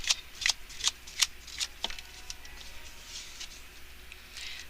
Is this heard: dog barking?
no